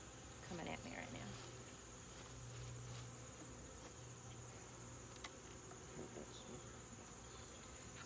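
Honeybees swarming around an open comb hive during a queen check, a steady, dense buzzing hum filling the air at close range with no talking.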